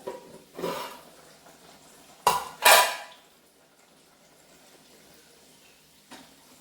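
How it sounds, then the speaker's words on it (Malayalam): A clay pot of Kottayam-style fish curry gets picked up and swirled, giving a few scraping, clattering bursts against the stove, the loudest pair close together midway, then quiet with a faint knock. "നമുക്ക് ചട്ടി എടുത്തൊന്ന് ചുറ്റിച്ചു കൊടുക്കാം"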